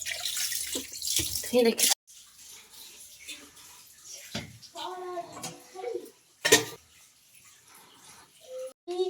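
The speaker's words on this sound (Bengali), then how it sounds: "পাইপে এখন জল আসছে, কখনো কখনো আসে আবার কখনো আসে না" Water runs from a household pipe or tap in a home kitchen, splashing in uneven bursts that start and stop, with a voice speaking briefly at the end and occasional clinks of dishes.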